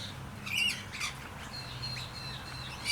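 Black-headed manorinas at a bird sanctuary give a few harsh squawking calls, then a thin, drawn-out whistle, moderately near over a low steady background hum.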